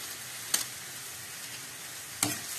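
Vegetables being stir-fried with oyster sauce in a pan: a steady low sizzle of frying with two sharp scraping stirs of the utensil, close and quiet, no voices.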